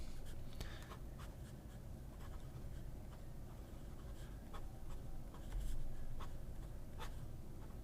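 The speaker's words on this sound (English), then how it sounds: "I haven't written with this pen in a while, and not a problem. It's a fine nib." A fine-nib fountain pen scratches across Rhodia paper in a steady run of soft, close strokes, with brief sharper ticks as the nib lifts and lands, heard alone without talk.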